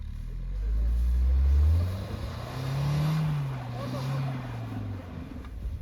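Scorpio N engine revving hard on a snowy winter road in Spiti valley, a low droning rise and fall of throttle that swells twice, close and loud, with faint voices in the background.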